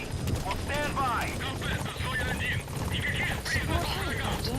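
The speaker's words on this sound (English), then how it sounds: "Support helicopter has arrived." Support helicopter in the video game Metal Gear Solid V arriving at a landing zone, a steady rotor drone running throughout beneath continuous speech and radio chatter.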